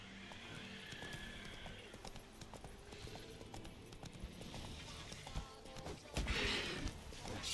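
Horse hooves clip-clop in The Witcher 3, a faint run of steady, rhythmic hoofbeats with a whinny-like swell near the end, low in level under quiet background game ambience.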